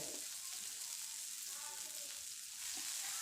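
Loud, continuous sizzling of soaked chana dal frying in a hot pan, with faint scraping of stirring now and then and no talking.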